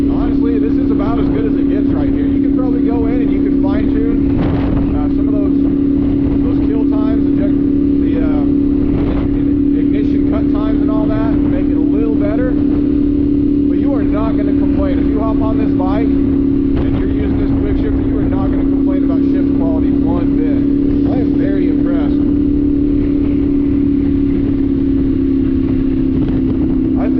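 A 2024 Yamaha Ténéré 700 with the factory quick shifter being ridden, its engine droning steadily and loudly throughout with constant wind rush, while a rider talks over it at intervals.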